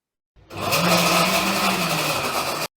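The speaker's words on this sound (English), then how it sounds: "The issue is blenders are so loud." A blender blending a smoothie starts abruptly and whirs loudly for about two seconds, a harsh steady motor roar up close, then cuts off.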